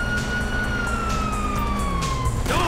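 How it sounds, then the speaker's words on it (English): A police siren in Grand Theft Auto V on PS5 wails steadily with a gliding pitch, loud and continuous over a dense background rumble, with no talking. "You hear that? Siren!"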